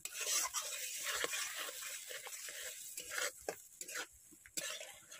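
Mustard masala paste with a pinch of salt is stirred and sautéed in a pan over a clay stove for a puti fish curry, giving quiet irregular scraping and rubbing strokes with faint sizzle and no speech.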